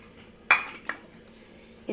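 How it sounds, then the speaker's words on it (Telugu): A hot tempering of spices, pepper and turmeric is tipped into yogurt for ridge gourd pachadi, giving a few faint metallic clinks of a spoon against the vessel in a quiet kitchen. "ఇప్పుడు ఈ పెరుగులోకి పోపు వేసేసేయాలి."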